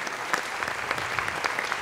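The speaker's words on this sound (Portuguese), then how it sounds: "Edmundo Dias, peço uma salva de palmas para ele." Audience at a concert in the cultural centre of Angra do Heroísmo applauds the lighting and projection technician, steady dense clapping throughout with a few sharper individual claps standing out, no voices over it.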